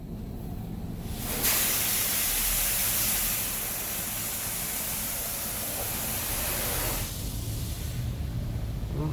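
High-pressure jets of an Esso automatic car wash in Beamsville blast water onto a car, a loud steady hiss that starts abruptly, holds for several seconds, then cuts off, heard from inside the vehicle.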